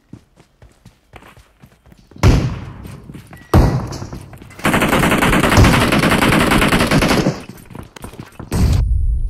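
Rapid automatic gunfire in a PUBG Mobile match, close bursts of dense shots with short gaps, over scattered softer thuds and footsteps, with no clear talk.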